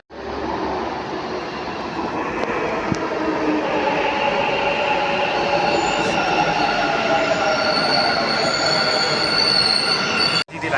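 A Bangalore metro train running, with a steady loud rumble of wheels on the rails and a high squeal of the wheels throughout, close by. No one speaks.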